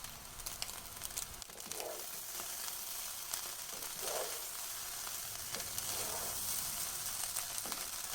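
Egg fried rice sizzles and crackles steadily in a restaurant-style pan with chopped spring onion added, with scraping stirs breaking through the hiss at intervals and no voices.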